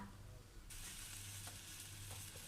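Steady broadband sizzling from a cheese sandwich, cheese oozing out, pressed in a hot sandwich press, constant and close, with a low electrical hum underneath and a faint click near the start.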